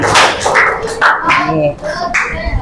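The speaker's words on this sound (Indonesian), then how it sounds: "tepuk tangan" Children clap their hands together in a classroom during a Javanese-Indonesian lesson, a quick run of close, sharp claps with a voice mixed in.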